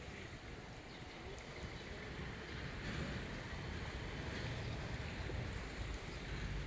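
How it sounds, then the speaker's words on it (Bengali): Rain falling steadily during a sunshower under a cloudless sky in Saudi Arabia, a constant broadband patter at moderate level throughout with light wind noise, no talk. "কত সুন্দর বৃষ্টি, মানে আনন্দ পাওয়ার মতো বৃষ্টি,"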